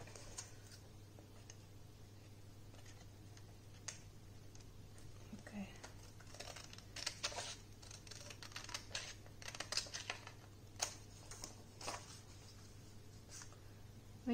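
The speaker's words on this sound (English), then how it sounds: "I need to cut off more here." Scissors trim paper for a winter envelope junk journal: a series of faint, soft snips and clicks, scattered irregularly over a low steady hum in a quiet room.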